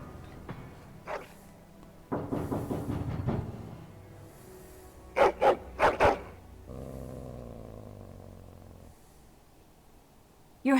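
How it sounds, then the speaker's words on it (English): A hound in the Dragon Age video game growling and whining, with a low rumbling growl and several sharp, loud vocal bursts at intervals. "Your hound is making so much noise. He seems so angry."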